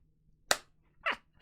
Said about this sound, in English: he starts banging on the wreckage as hard as he could